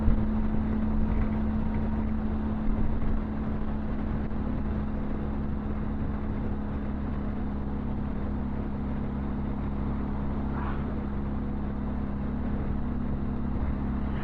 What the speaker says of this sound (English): the wind is definitely picked up a bit now. It's starting to buffet me about a bit.